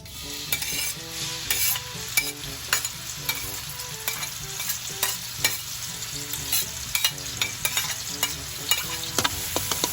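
Onion and garlic sauté in a pan for sweet spaghetti, with a bright continuous sizzle under frequent clattering strokes of a utensil stirring and scraping against the metal.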